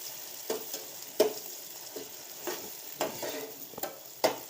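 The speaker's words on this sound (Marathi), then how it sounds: "मी जोपर्यंत असं गाळा होत नाही ना टमाटर तोपर्यंत असंच परतत राहणार आहे" Tomatoes sautéing in a pan for green pea curry, a quiet sizzle broken by about seven spatula scrapes and taps at a steady stirring pace, close up.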